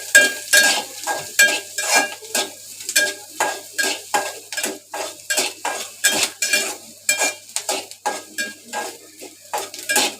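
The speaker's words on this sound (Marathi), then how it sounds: "कांदा भाजून घेते, बारीक मीडियम गॅसवर भाजायचा कांदा" Chopped onion fries over medium gas for okra bhaji, with a spoon scraping and clanking against the pan in a steady, repeated stirring rhythm over a close, continuous sizzle.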